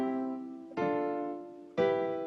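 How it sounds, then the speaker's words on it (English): Stacked triad chords built on the degrees of a scale ring out on a keyboard-like instrument, three sustained chords struck one after another at roughly one-second intervals, clear and close with no talk. "often tonal music tends to have particular kinds of chords called triads or third space chords that sound like this"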